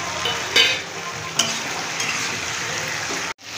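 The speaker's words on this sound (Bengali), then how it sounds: "এই যে আমার এখানে মাংসটা অনেকক্ষণ কষিয়েছি, অনেকটাই কষানো হয়ে গেছে" Chicken meat and tomato sauté in a pan with a dense, even sizzle up close, punctuated by a couple of quick stirring scrapes before a brief cutoff.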